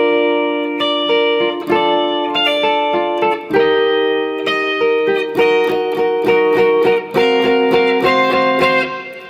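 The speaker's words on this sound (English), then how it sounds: "My guitar is in standard tuning and I've just got a clean sound with lots of reverb." Clean electric guitar in standard tuning, soaked in reverb, plays a song intro as ringing arpeggiated chords with a gentle repeating pulse, close and alone with no talking.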